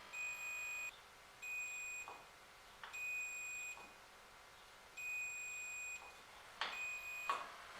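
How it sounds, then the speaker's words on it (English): Repeated electronic beeps from a continuity tester checking the horn wiring on a 1973 VW campervan, a steady high tone sounding in five spaced bursts of about a second each, with faint clicks between them. "if I press the horn, you can hear there that I've got continuity"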